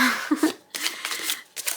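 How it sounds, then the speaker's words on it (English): A deck of tarot cards being shuffled, a little clumsily, in short riffling bursts separated by brief pauses, close and fairly quiet. "That's me being a bad shuffler."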